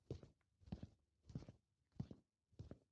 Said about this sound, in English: Those were footsteps.